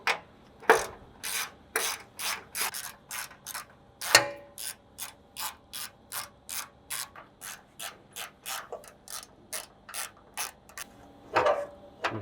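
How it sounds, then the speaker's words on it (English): Steady ratchet clicks from a wrench backing out the 12mm bolts on the front skid plate of a 5th-gen Toyota 4Runner, the rhythmic bursts close and clear, with a few louder knocks and no talking. "Alright, the first step is going to be to remove this front skid. 4 12mm bolts."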